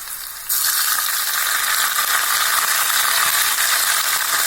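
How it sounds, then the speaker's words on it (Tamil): Tomatoes drop into a hot pan and start sautéing, a sudden broad, steady sizzle that stays loud and even from just after the start, with no talking. "இப்போ நம்ம தக்காளி போட்டுடலாம்"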